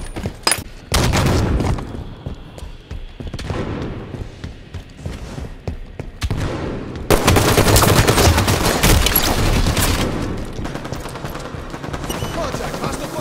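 Dense video game gunfire bursts out in rapid volleys and heavy booms, loud and close, with a brief lull before an even louder sustained barrage takes over the second half.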